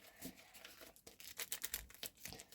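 A small paper surprise packet is torn open by hand, close and quiet. A series of short ripping and crinkling bursts follows a brief pause, with no talking.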